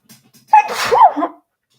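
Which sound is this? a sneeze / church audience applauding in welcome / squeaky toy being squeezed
a sneeze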